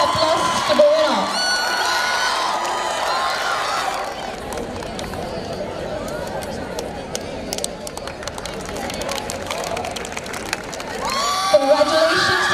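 A crowd at an inter-college sports meet in Mangaluru cheers, whoops and applauds a championship winner, with a continuous roar of many voices and clapping that swells again near the end.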